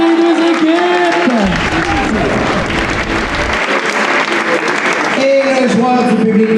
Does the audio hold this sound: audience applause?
yes